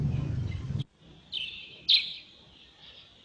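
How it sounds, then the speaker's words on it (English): Birds chirp in short, clear bursts on a sunny afternoon in empty, traffic-free streets of Bamenda, with a few separate calls spread across a quiet background. "only sounds of birds could be heard"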